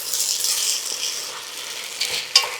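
Lentils and garlic sauté in a pot, giving a steady soft sizzle with faint scraping stirs and a brief louder clatter near the end.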